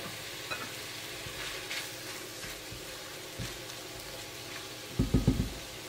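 Ground beef frying in a pan just after a spoonful of vinegar goes in gives a soft, steady sizzle with occasional stirring scrapes and a few louder clattering knocks near the end.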